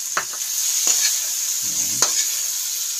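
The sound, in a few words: stir-frying bitter gourd with boiled shrimp in a pan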